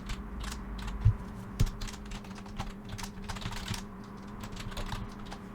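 Rapid, light clicking of a computer keyboard as text is typed, with irregular keystrokes in quick bursts over a low steady hum.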